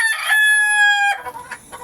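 A backyard rooster gives a loud, close crow, followed by a few short clucks from chickens.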